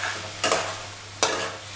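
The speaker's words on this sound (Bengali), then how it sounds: "তো এটাকে আমি বারবার নাড়তে থাকবো" Poppy seed paste with ridge gourd being stirred in a pan: two quick, close scraping strokes break through a soft, steady sizzle.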